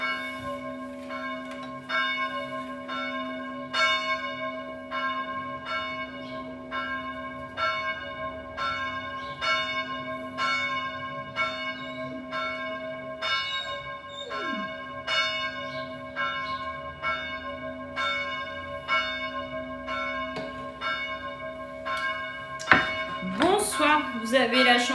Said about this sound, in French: vous avez la chance d'avoir le concert des cloches. Non, pas moi, dehors. Il est 19h.